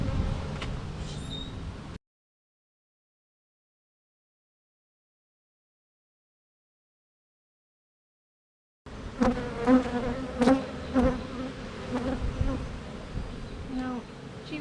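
Honey bees buzz steadily around an open hive while a beekeeper makes up nucs, a close droning hum heard at the start and again after a long stretch of total silence.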